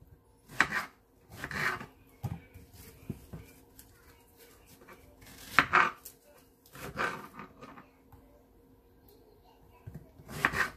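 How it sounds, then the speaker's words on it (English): Several scattered bursts of a knife chopping strawberries against a board, softly paced with pauses between, close by and fairly quiet. "So I'm just chopping them into like bite sizes,"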